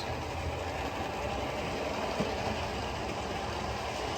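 An OO gauge model train hauls a rake of old, heavy carriages up an incline on a layout, giving a steady close rumble of wheels and motor with a faint rhythmic clatter and no talking.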